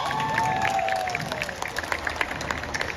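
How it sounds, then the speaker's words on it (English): At a school annual day, an audience applauds after a Bollywood-themed skit. The clapping is moderate and scattered, while a sliding, whistle-like tone and faint voices sound over it early on. "Leave them a round of applause."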